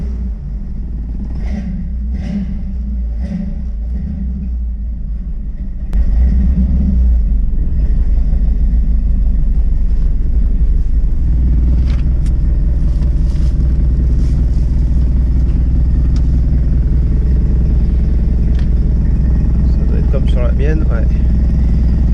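Eleanor car engine idling low and deep, then firing up louder around the six-second mark and settling into a steady warm-up rumble, with people talking nearby over it.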